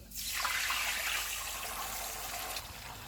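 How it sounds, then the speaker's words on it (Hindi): Jaggery mixture is poured into a pot of rice, giving a steady liquid splashing and gushing that starts abruptly and continues evenly throughout, close and moderately loud with no talk. "अब इसमें गुड़ वाला मिक्सचर डाल देंगे"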